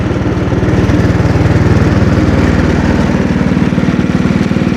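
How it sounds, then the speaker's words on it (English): An Ariens snowblower's small engine idles steadily after a repair for surging, a loud, close, even putter at a fairly brisk RPM with no talk. "because it seems to be idling at quite a good RPM here"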